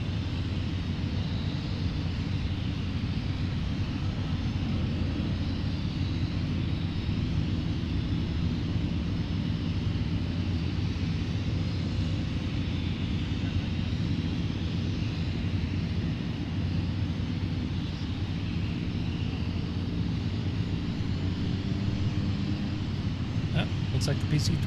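Small propeller aircraft taxiing at Seafair airfield, a steady low engine drone and rumble held throughout at moderate distance, with faint voices in the background.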